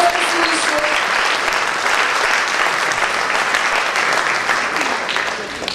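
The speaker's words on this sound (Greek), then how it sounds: "Χειροκρότημα Μαριούπολη." A crowd claps at a Greek song festival awards event in Mariupol, sustaining a thick, even roar of hands for several seconds before tapering slightly toward the end.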